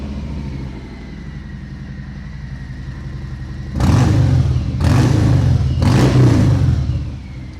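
A Kawasaki superbike engine idling low, then three sharp loud revs in quick succession, each a short burst before settling back, close to the microphone with no talk.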